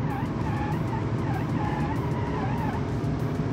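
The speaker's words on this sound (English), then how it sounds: "Look at it, cornering on nearly 200 kilometers per hour." A car in the BeamNG driving game corners at close to 200 km/h, its engine droning steadily while the tires hiss and squeal in a continuous loud, close wash.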